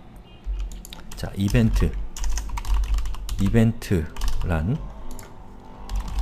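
Computer keyboard typing in Korean text into a web form during a coding tutorial, a run of quick keystroke clicks under a voice speaking over it.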